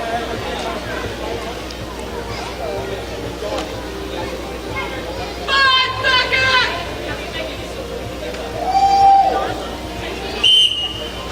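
Sharp referee whistle blasts at a roller derby bout, a couple of shrill tones with another brief one near the end, heard over a commentator talking and crowd noise in an indoor venue.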